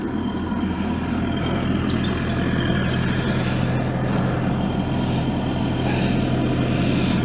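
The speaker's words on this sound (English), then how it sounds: "Engine's running" A canal boat's engine idling steadily, a continuous low throbbing hum that holds even and close throughout with no speech over it.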